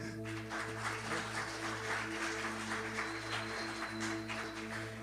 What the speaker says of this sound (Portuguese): Aplauda Jesus então